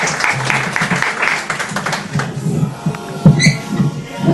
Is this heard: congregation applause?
yes